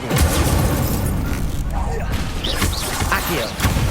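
Incendio fire spell cast in Hogwarts Legacy, a loud burst of booming, crackling blasts and impacts from combat effects that keeps up without a break for the whole four seconds.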